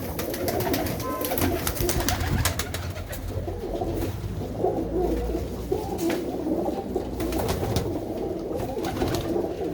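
Pigeons in a loft box coo repeatedly at close range, soft throaty calls overlapping against a busy background of rustling and faint distant voices.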